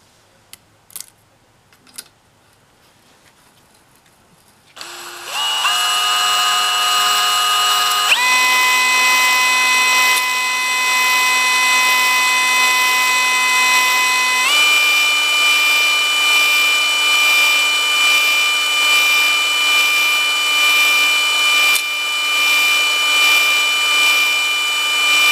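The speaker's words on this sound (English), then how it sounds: "So now we're on to honing." A Tecumseh 10 HP engine cylinder is honed with oiled honing stones, starting after a few sharp taps with a loud, steady whirring drone that holds for about twenty seconds, stepping slightly in pitch partway through.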